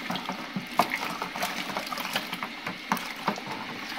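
Sanitised water for a home-brewed dark ale is stirred in a container, giving a close, continuous swishing and splashing with small irregular sloshes and no talk.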